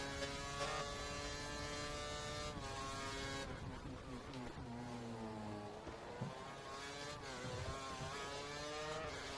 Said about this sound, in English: hear the car trying to get away from you as you accelerate through those turns.